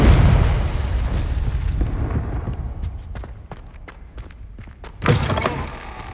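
The Confringo fire spell explodes in Hogwarts Legacy with a loud booming blast that fades into crackling debris and scattered sharp pops, followed by a second heavy impact near the end.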